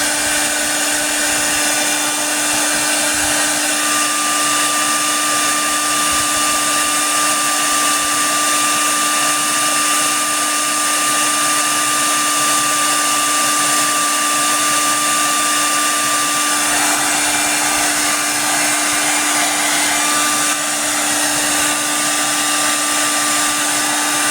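Hot air from a hair-dryer-style heat tool blows steadily on an action figure's neck to loosen the head, a constant close whine with a fixed high tone and no speech.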